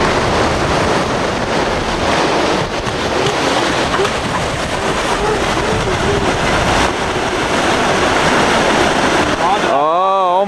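An RC jet boat with a 5S LiPo setup and steel skid plates surges through river rapids, its loud continuous rushing water and wind buffeting dominating the close recording, ending in an abrupt cut.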